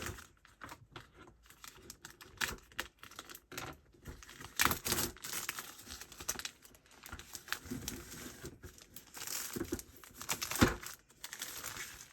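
Packaging on a Kuromi storage box crinkles and rustles as it is opened, with close, soft, irregular crackles and small tapping bursts and no talking.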